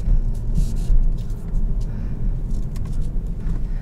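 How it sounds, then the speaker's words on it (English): A 2022 Kia Stinger GT1 with a turbo V6 and an aftermarket exhaust gives off a steady, low engine and exhaust rumble, heard from inside the car with small clicks and no speech. "they're both turbo V6s, so they're gonna sound similar, but especially with this new exhaust"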